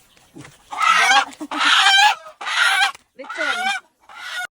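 Loud, close chicken squawks and cackles in four or five frantic bursts with short pauses between, the agitated cries of a native chicken being chased and grabbed on a farm.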